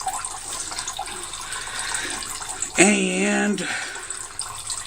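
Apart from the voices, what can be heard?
ricotta cheese whey draining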